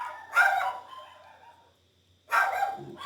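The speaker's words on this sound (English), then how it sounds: "the dogs are barking." Dogs bark indoors in two loud, drawn-out bursts separated by a quiet pause of nearly two seconds, with no talking over them.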